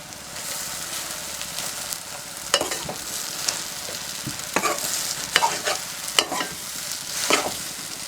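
Pre-boiled noodles are stir-fried with egg in a hot pan, with a steady sizzle under irregular scraping and clattering spatula strokes, heard up close with no voices.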